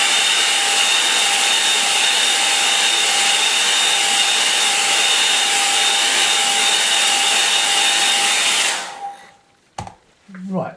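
A hair dryer blasts steadily and loudly over a watercolour painting of autumn trees for about nine seconds, then switches off, leaving brief faint handling sounds.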